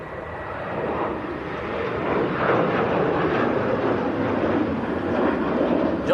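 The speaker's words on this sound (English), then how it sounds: "I've just got his eye on an EasyJet as well, which looks like it's maybe taxiing towards a runway" An EasyJet airliner taxiing toward a runway at Manchester Airport, heard as a continuous broad jet engine roar that holds steady and swells slightly, with wind noise mixed in.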